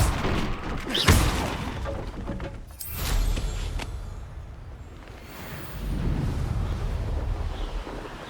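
A Confringo spell blast in the Hogwarts Legacy video game lands as a booming burst about a second in. A second rushing surge follows near three seconds, set against a steady roaring wind-like rumble with no talk.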